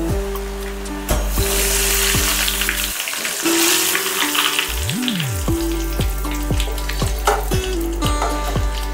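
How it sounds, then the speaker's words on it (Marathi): Thick poha flakes deep-frying in hot oil for chivda give a loud, bubbling sizzle, close and continuous. A looping musical tone with a repeating rhythm runs underneath, and no one speaks. "आता आपल्याला थोडे थोडे पोहे टाकून ते तळून घ्यायचे आहेत"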